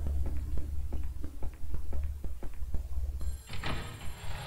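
In the retro horror game Clock Tower, a telephone bell rings in quick repeated bursts, fairly close and loud, followed by a brief shuffling noise near the end.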